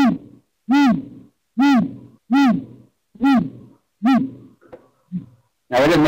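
A great gray owl gives a series of deep, resonant bass hoots, about six loud, evenly spaced calls heard close up, with a faint rustle between them and a harsher note at the end.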